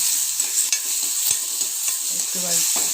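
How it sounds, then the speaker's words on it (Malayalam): Shallots and crushed garlic frying in coconut oil in a wok, a steady bright crackle broken by a few scrapes of a spoon against the pan, no voices. "ചീനച്ചട്ടി വെച്ച് വെളിച്ചെണ്ണ ഒഴിച്ച് അതിൽ കുറച്ച് ചുവന്നുള്ളി വെളുത്തുള്ളിയും കൂടിയിട്ട് ചതച്ച് വെച്ച്"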